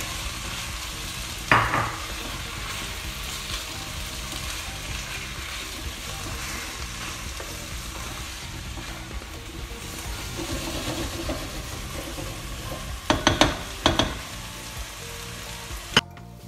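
Beef ragu sizzles and fries steadily in a pan with an even frying hiss, broken by a few louder stirring scrapes near the start and toward the end.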